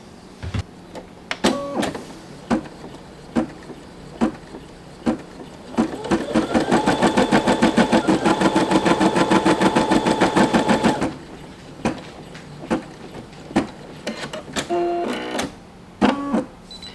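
An embroidery machine stitches floated fabric held in a hoop with tearaway stabilizer, giving a loud, steady, rapid mechanical rattle for about five seconds. Scattered clicks and handling noises come before and after it.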